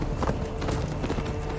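A horse in Assassin's Creed Valhalla gallops with quick, rhythmic hoofbeats, loud and close, for a short burst.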